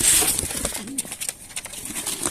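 Pigeons coo in a bird shop, with a soft rolling coo rising and falling close by amid busy rustling, clicks and shop noise.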